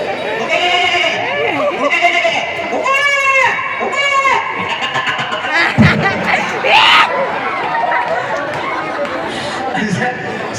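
A performer on stage imitates a goat's bleat with his voice, several wavering bleats rising over a noisy, chattering live crowd, with laughter and talk around them.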